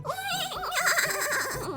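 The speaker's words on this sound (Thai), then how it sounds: "ม้าเริ่มต้นของเราคือม้าตัวสีน้ำตาลตัวนี้นี่เอง" A brown horse whinnies in the Roblox game Horse Race Simulator, a loud, close, wavering neigh with rapid pitch trills lasting under two seconds, with no talking.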